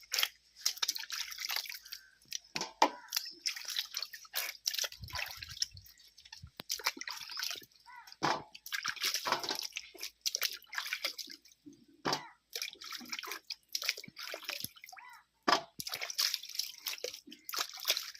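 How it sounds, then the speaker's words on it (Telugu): Soaked raw mangoes being washed and rubbed by hand in water for mango pickle, with irregular splashes, drips and sloshing close by, alone and moderately loud. "10 నిమిషాలు నానబెడితే బాగా వాష్ చేసుకోవాలి."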